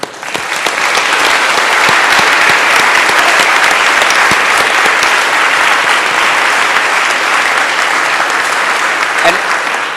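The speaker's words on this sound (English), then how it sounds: "let's give a quick round of applause to Kate and her team" A church congregation at a St. Barnabas youth ministry service breaks into loud, dense applause for a youth team, sustained and even for the whole ten seconds, with occasional sharper individual claps poking through.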